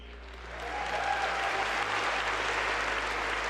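Audience applause at the Xbox One console announcement builds within a second into a steady, dense wash of clapping from a large crowd in a hall, with a low hum underneath.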